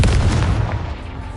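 A Confringo fire spell bursts in Hogwarts Legacy with one loud, close explosive boom that rumbles low and decays over about a second.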